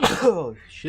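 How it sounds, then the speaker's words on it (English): A single close, sharp sneeze bursts out at the start, immediately followed by a brief spoken exclamation. "That was a sneeze."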